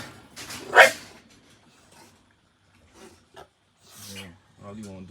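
A micro exotic American bully puppy lets out a sharp bark followed by quieter yaps, with someone talking between them.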